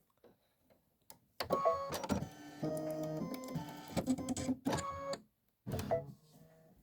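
A sewing machine stitches a quilt block, running in loud bursts of rapid mechanical whirring separated by short pauses, close and alone without talk.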